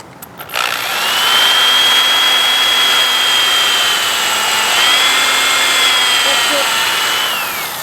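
Cordless drill whirring steadily while driving one of the last screws into a wooden box, a sustained motor whine in two long pulls with a brief pause between, close and loud.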